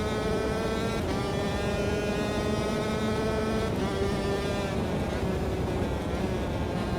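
Go-kart engines buzz in a race in the Automobilista 2 sim, a steady droning whine that holds at a constant level with slight pitch shifts, and no voice over it.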